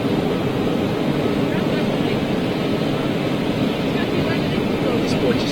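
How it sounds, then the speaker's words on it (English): A KLM Boeing 747 freighter taxiing at Schiphol airport, heard as a steady, fairly loud jet-engine rumble and roar with wind noise, continuous throughout. "There's another Boeing 747 freighter over there with KLM making its way out towards us."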